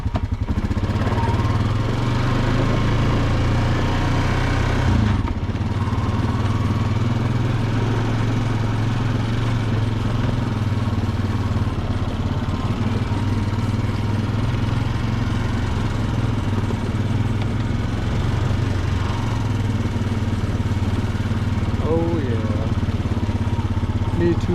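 A Honda Rubicon ATV on wide, aggressive tires rides a trail with a continuous, loud engine drone and rumble throughout. A rider talks over the engine.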